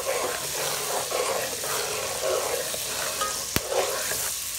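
Ground spices, cumin, garam masala, salt, dry chilli, turmeric and sugar, frying in a pan for Bengali chana dal with coconut, giving a continuous close sizzle with scraping stirs and one sharp click near the end.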